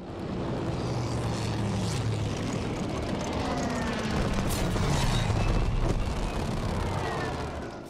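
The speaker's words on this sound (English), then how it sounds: "the medium and heavy bomber classes allow the aircraft to have devastating effect when targeting infantry down on the ground below" Propeller engines of medium and heavy bombers in the video game Battlefield 5 give off a loud, steady, droning roar that stays continuous throughout, with rumbling low tones and a brief sharper swell midway.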